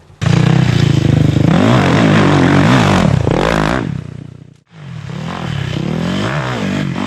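A dirt bike engine revs hard and loud as it accelerates out of a rut, dropping off briefly around the middle before building again up close.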